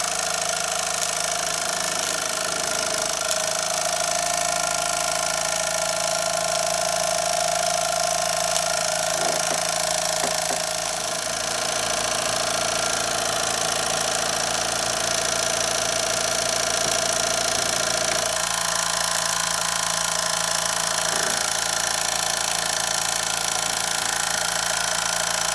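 Mamod Minor 2 model steam engine running with oil on the cylinder, a continuous rapid, mechanical chuffing and rattling close by, steady and loud throughout with slight shifts in pace.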